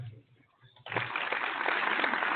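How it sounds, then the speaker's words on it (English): Applause breaks out on a barbershop talk radio show, quiet voices first, then a sudden swell of clapping and cheering from a small group that holds steady to the end. "You need to applaud him again."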